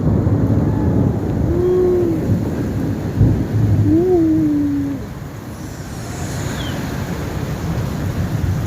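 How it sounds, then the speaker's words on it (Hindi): Steady heavy rain roars throughout, with low rumbling and a few faint tonal calls over it, no speech. "बारिश बहुत ज़्यादा हो रही है"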